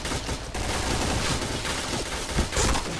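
Rapid bursts of gunfire in the video game Witch, dense and loud. Shots crackle in quick overlapping volleys that run through the whole stretch with only brief dips.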